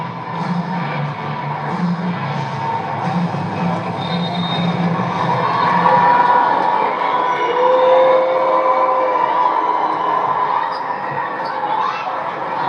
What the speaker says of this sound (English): Cheering on the USA.